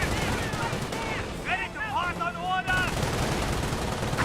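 Dense gunfire and machine-gun bursts from a Luftwaffe ground force and a half-track in Company of Heroes, a loud steady barrage with voices talking over it in the middle.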